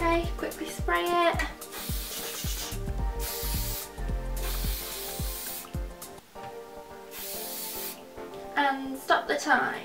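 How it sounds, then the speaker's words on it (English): Hairspray hissing from an aerosol can onto hair in several long continuous bursts, close and loud, with a person talking briefly before and after the spraying. "Okay, quickly spray it."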